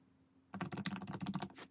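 Keys on a new low-noise computer keyboard clatter in a quick, even run of taps after a brief quiet start, close by in an office with no talking.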